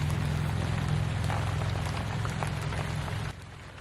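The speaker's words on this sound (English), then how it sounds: "look at all the rain that's coming down." Rain drums steadily on a van roof, a dense close hiss of drops with a low hum underneath that drops away near the end.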